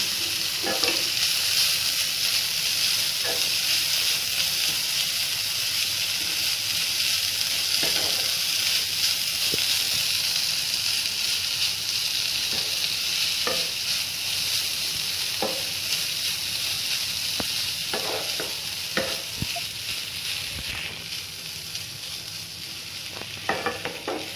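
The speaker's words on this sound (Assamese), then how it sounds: "ৰঙালাওখিনি অলপ সময় ভাজিব লাগিব," Pumpkin pieces frying in ghee in a kadai, a long steady sizzle broken by repeated clinks and scrapes of a stirring spoon, close by and fading a little toward the end, with no talking.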